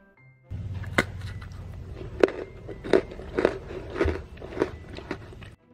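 Someone bites into crunchy, colourful dry fried donut cookies, a festive Lebaran snack, giving about eight sharp, close crunches spaced roughly half a second apart over soft chewing noise.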